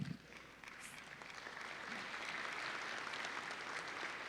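Audience at an ocean leadership live-streamed event claps, starting quietly then swelling into steady, fairly distant applause that continues to the end.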